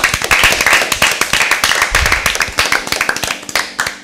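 A group at a Bible quiz claps for Team B, giving loud, dense, rapid applause that runs steadily for about four seconds.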